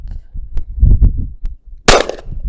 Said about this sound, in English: Double action headshots at about 30 yards